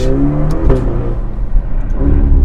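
Ferrari Portofino grand tourer with a dual-clutch gearbox, its engine revving hard through a loud exhaust, a steady close roar with a brief sharper blip near the start.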